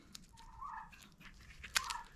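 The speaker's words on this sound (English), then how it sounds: "The turkeys are coming to see us and see what we're doing here." Faint turkey gobbles sound from a short distance, two brief warbling calls amid scattered rustling and crunching.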